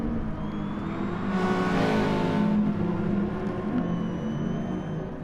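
Subaru touring car engine racing flat out on the DragonTrail circuit in a racing video game, a steady loud drone with a brief louder surge as it pushes through a fast section, no talk.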